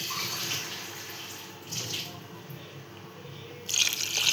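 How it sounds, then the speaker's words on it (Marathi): Water is poured into a pan of jackfruit curry in a home kitchen, a soft, steady splashing flow that runs quietly throughout and briefly grows louder near the end. "मग आपण त्यात टाकूया पाणी."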